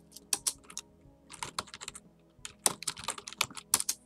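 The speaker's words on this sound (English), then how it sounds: "So we'll go ahead and type a message." Keys on a computer keyboard are tapped in quick bursts while a chat message is typed, crisp close clicks clustered in short runs with brief pauses between.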